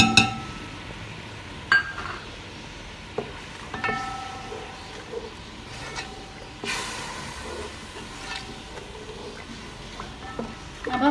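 Chicken cubes cook in a pan with chili garlic sauce. A soft, constant sizzle runs throughout, with occasional clinks and scrapes of a utensil against the pan, and no talking.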